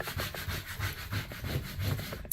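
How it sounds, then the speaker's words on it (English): A tool rubs back and forth over 651 adhesive vinyl pressed onto transfer tape for a graduation sign, giving a steady scraping swish in close repeated strokes, with no talk. "So now I just need to burnish this"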